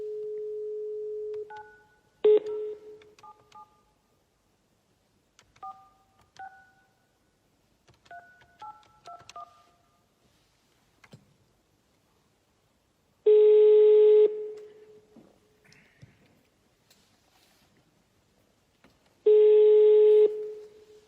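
Telephone dialing while placing a call to a citizen affected by a power outage: a steady tone, then scattered keypad beeps, followed later by two long ringback tones separated by silence, fairly quiet and with no talk.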